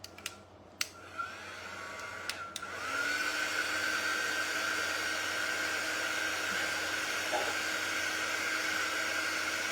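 A hair dryer starts up after a few clicks and then runs steadily and loudly, drying paint on a Snoopy-on-doghouse craft with painted grass.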